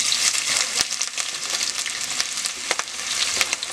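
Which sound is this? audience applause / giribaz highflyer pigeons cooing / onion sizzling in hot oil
onion sizzling in hot oil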